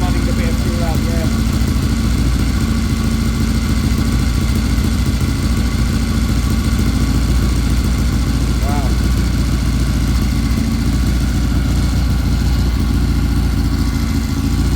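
Triumph Bonneville T120 motorcycle engine running at idle to burn off fuel, a loud, close, steady throb and rumble throughout, with people speaking over it.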